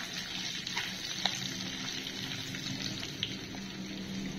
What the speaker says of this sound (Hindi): 20 से 30 सेकंड इसको फ्राई करना है।